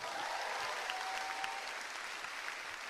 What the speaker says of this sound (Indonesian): tepuk tangan dong buat Unpam